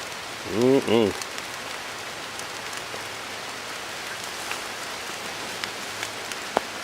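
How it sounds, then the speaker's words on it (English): Light rain falls outdoors over mushrooms as a steady close hiss, with scattered drips and a brief tonal sound near the start. "The rain is really helping, of course."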